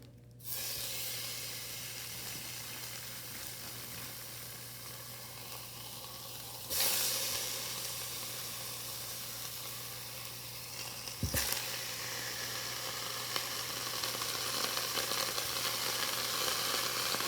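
Sliced beef steak sizzles steadily in a hot pan, a continuous broadband hiss with a louder burst as more meat goes in and a brief clunk later, with no talking.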